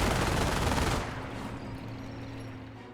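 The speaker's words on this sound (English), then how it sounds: "Sniper got peppered a little bit by the MG42" MG42 machine gun fire in the World War II strategy game Company of Heroes, a dense rattling burst for about a second, then a fading rumble with a low, steady drone beneath.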